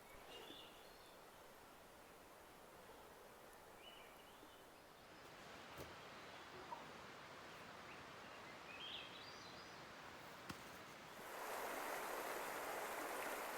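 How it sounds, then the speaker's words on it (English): The Baker River streams over boulders among trees in a steady, low-level rush of flowing water, with faint bird chirps scattered throughout and the water growing louder near the end. "This is the Baker River."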